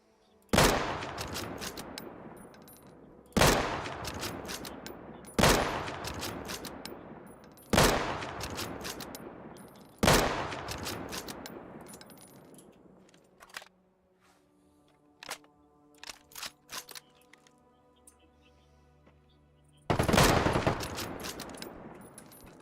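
Sniper rifle shots in the Deadside survival video game, six loud booming shots spaced a few seconds apart, each ringing out with a long echoing tail, plus faint clicks between them.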